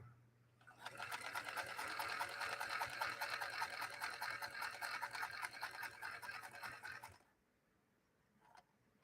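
A Singer Featherweight sewing machine runs through fabric in one continuous fast, buzzing stretch of about six seconds, then stops, leaving quiet room noise and a faint click.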